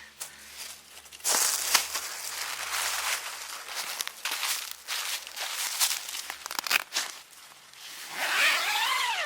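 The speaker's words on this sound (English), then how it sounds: "Got your lightweight zippers here." Rustling and crinkling tent fabric with a few quick pulls of a lightweight tent door zipper, close up, ending in a longer zip.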